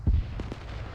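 A mortar ranging round lands in the military shooter Arma 3, heard as a single deep, distant boom followed by a short low rumble, with a couple of faint thuds trailing after.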